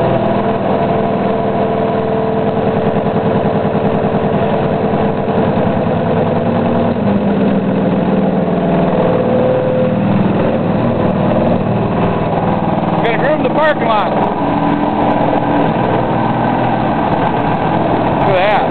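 New high-tech snow groomer idling nearby in a parking lot, its engine a steady, heavy rumble that runs for the whole stretch while people talk over it.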